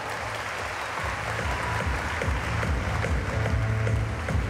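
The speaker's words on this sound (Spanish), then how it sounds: "fuerte el aplauso" Audience applause for a third-place finisher at a bank employees' games singing contest, sustained crowd clapping with a low rumbling background hum, loud and steady throughout.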